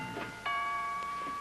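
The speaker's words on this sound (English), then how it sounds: "would you mind answering the doorbell" Two soft chimes of a doorbell ring out, a first tone followed by a second, slightly louder, sustained one that hangs and fades, alone with no voices in a quiet household.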